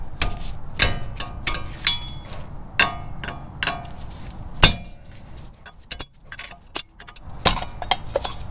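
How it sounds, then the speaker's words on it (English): A pry bar levers at the cap of an upper ball joint, producing a series of sharp metallic clinks and taps, close and irregular, with pauses between strikes. "I'm gonna get it in between and I'm just gonna pop the top of the handle and pop it free"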